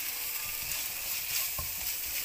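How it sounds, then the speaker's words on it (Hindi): About two spoonfuls of chopped onions fry over a medium-low flame, giving a soft continuous sizzle with light scraping and stirring clicks close by, without talk. "मैंने थोड़े से प्याज डाले हैं तकरीबन 2 चम्मच भर के चॉप प्याज, और इसको मीडियम टू स्लो फ्लेम पे पकाना है हमें"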